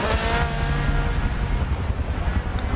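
A race car engine roaring at Monza in the racing game Forza 7, a steady loud drone with wind-like rush throughout and no talking.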